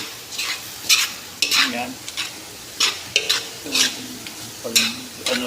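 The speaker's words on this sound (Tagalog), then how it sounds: "Ginis ako na yung giniling." Ground meat sizzles and frying in a pan for spaghetti, with repeated bursts of stirring and scraping at a steady rhythm, close and fairly loud, and a brief spoken word.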